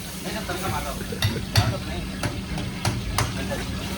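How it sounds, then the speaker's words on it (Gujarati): Hot oil sizzles and crackles steadily as dal is tempered at a food stall during Navratri in Surat, with a few sharp metallic clinks of a ladle against a pan. "તો દાળનો તડકો મારે છે"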